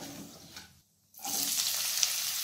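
Chopped onions with salt frying in hot oil sizzle up loudly after a brief quiet gap, the crackling hiss close and steady.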